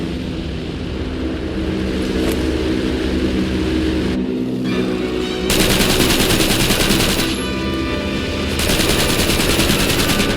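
Bursts of rapid automatic gunfire from aviators returning fire, loud and close, with sustained rattling volleys broken by short pauses and an engine drone underneath.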